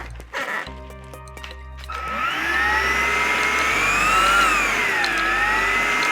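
A Homeika cordless vacuum cleaner runs with a freshly inserted battery: a click and a brief electric whine come first, then the motor spins up after about two seconds into a steady, loud whirring hum with shifting tonal whine.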